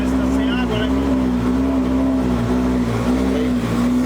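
Engine of a Subaru BRZ Formula Drift car idling steadily with a strong, even low drone and slight rhythmic wobble, loud and close, with voices talking over it.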